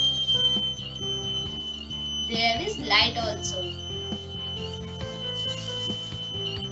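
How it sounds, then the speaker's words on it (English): A homemade buzzer sounds indoors as a steady high tone, with a brief squealing burst in the middle, while a person speaks over it. "You can see my buzzer is on and inside house"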